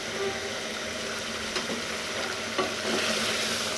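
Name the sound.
stirring chicken karahi with spices in a frying pan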